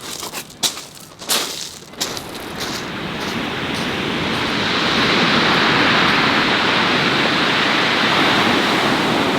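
Sea surf rolls in at Brighton Beach, building from a few knocks and rustles into a loud, continuous close-up wash of breaking water that holds steady to the end.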